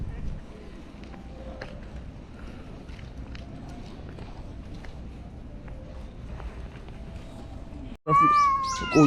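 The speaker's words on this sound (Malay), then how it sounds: "Yang bergaduhnya kucing." Street cats fighting on an outing in Busan, South Korea, heard under steady outdoor background noise, with one loud, drawn-out yowling meow breaking out near the end.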